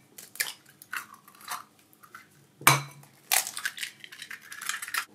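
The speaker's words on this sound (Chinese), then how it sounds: "再准备一个碗，里面打入两个鸡蛋" Two eggs are cracked into a bowl while pumpkin is prepared for an air fryer dish, giving a sharp crack and splat in the middle of scattered clinks and soft kitchen handling noises, close by.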